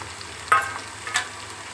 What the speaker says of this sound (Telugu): ఇప్పుడు మనం ముందుగా నానబెట్టుకున్న ఉప్పు తుంపలను కూడా వేసేసుకుందాం